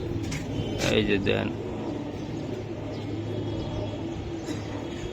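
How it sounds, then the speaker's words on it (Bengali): Giribaz high-flyer pigeons, green gola birds, give low, steady cooing close by, with a short spoken phrase near the start and a brief bird call. "গ্রিবাস সবুজ গোলা কবুতর"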